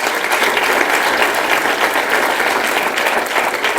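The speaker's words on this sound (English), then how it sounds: "Give him a round of applause." Loud, dense audience applause at a school board meeting honoring teachers, a sustained even roar of many hands clapping for nearly four seconds.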